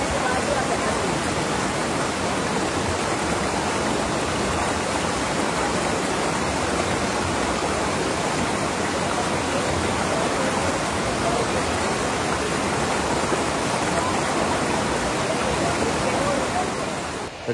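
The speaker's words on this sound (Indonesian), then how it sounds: "Oke, kita akan melewati sungai ini." Mountain river flowing steadily while someone wades across it on foot, a loud, constant broadband rush of water filling the whole stretch without pause.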